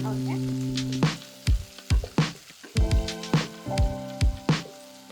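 Tomatoes and masala cooking in a pan for an Andhra chicken curry, with steady sizzling frying and repeated sharp scrapes and taps of a spoon stirring against the pan, close and fairly loud.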